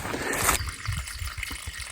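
Water trickling and splashing off a rock at a wilderness stream, close and fairly soft, with a brighter burst of splashing at first that settles into a light continuous dribble.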